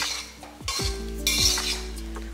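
A metal plate set down over a pot of brinjal and potato rice makes a couple of close clanks and scrapes, with a soft sizzle underneath.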